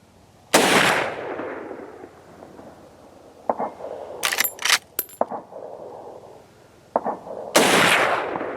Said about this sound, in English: So first time ever shooting this rifle, 30-30, let's see how it shoots.